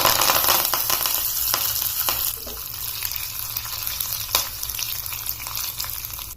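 Cumin, sesame seeds, asafoetida and curry leaves crackle in hot oil as a tempering for moong dal dhokla, a steady close sizzle with scattered pops and stirring, and no voices.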